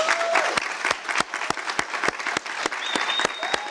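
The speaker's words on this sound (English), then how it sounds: "Can everybody that's gathered give a round of applause for Claudia de la Cruz?" Audience applause at a conference, a loud, sustained round of clapping from a gathered crowd, steady throughout with a couple of whistles on top.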